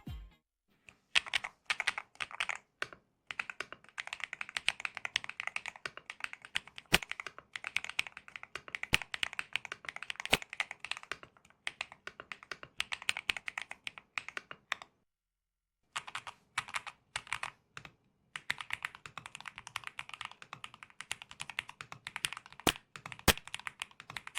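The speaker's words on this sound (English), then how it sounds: "the typing sound remains within an acceptable range" Brisk typing on a mechanical keyboard, close and clicky, in bursts of rapid keystrokes separated by short pauses, with no voices.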